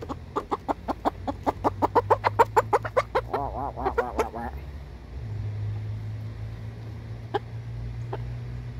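Injured chickens cluck in a steady, rapid series of sharp clucks that speed up and then stop, close by, followed by a low hum with occasional faint clucks.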